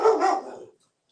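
A pet dog lets out two sharp barks close by, fading into a short tail and then silence.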